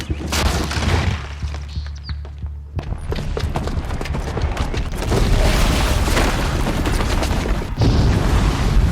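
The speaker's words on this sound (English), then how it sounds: "the booby trap on the bomb downstairs is gonna get set off" A booby-trapped bomb goes off in Horizon Zero Dawn, filling the scene with loud, rumbling booms, crashing debris and crackling bursts that surge again and again over several seconds.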